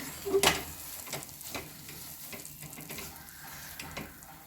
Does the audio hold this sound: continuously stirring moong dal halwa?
yes